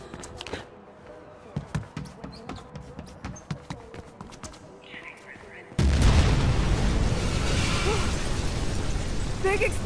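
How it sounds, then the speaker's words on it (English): A big explosion in the Mirror's Edge Catalyst video game hits with a sudden loud burst partway through, then a sustained roaring rumble follows after scattered thumps and clatter. "Big explosion over here!"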